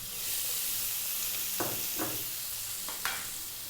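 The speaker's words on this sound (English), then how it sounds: "I'm now going to drop in some onion, cut it nice and small." Chopped onion frying in oil in a pan: a steady, close sizzle with a few soft stirring scrapes over it.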